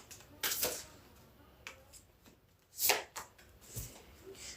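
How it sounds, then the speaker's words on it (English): A deck of tarot cards being shuffled, quiet, close riffles and slaps coming in a few short bursts with pauses between. "can we get a quick shuffle?"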